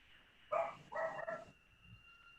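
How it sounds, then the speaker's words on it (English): A dog barks two or three times in quick succession, muffled and somewhat distant as if behind closed doors, under a faint steady hum. "Sounds like the dog"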